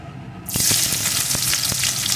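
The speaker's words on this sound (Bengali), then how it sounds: "এখন এই ফোড়নগুলো প্রথমে ভালো করে ভেজে নেব।" Whole spices (phoron) hitting hot oil for a potato and egg dal, a sudden loud sizzle that starts after a brief quiet and keeps crackling steadily with small pops.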